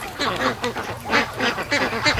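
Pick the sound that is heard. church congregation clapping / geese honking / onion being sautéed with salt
geese honking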